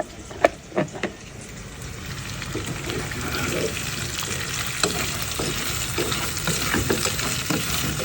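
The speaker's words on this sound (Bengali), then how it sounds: "ভাবতেছি এখন ডিমটাও ভেজে ফেলবো" Egg frying in a pan in a home kitchen, a steady broadband sizzle running throughout with a few clinks of a utensil near the start, no talking over it.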